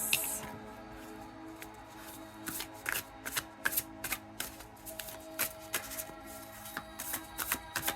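A deck of cards for a card reading is shuffled close by in quick, crisp riffling bursts that repeat in a loose rhythm, with soft rustling between them and no talking.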